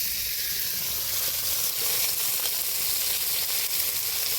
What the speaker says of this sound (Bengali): কত সুন্দর মাছটা ভাজা হচ্ছে দেখো